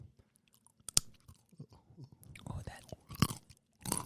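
Crunchy almonds being chewed close to the mic, with a few crisp bites and crunches spread out amid quiet mouth sounds and some soft talk.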